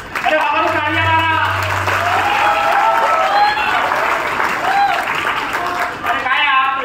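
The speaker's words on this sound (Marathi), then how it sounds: "अरे बाबा टाळ्या मारा." Steady audience clapping fills a hall during a Marathi stage comedy performance at a university foundation day event, dense and sustained throughout, with voices calling out over it.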